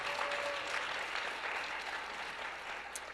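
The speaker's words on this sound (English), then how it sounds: "let's give them a round of applause again." A crowd at a live gathering applauds a pair of performers, a soft, distant patter of many hands that continues evenly and fairly faintly throughout.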